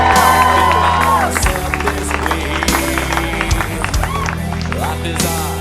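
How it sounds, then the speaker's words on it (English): Wedding guests clapping and cheering for the bride and groom over loud reception music with a steady bass beat, with scattered whoops and crowd noise throughout. "Let's hear it one more time, everyone, for the bride and groom."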